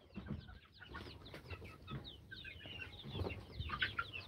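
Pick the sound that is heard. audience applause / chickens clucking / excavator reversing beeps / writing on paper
chickens clucking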